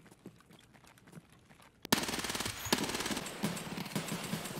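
Sustained automatic gunfire in a shooter video game, a loud continuous rattling burst that suddenly kicks in after a quieter stretch and holds steady to the end, with no talking.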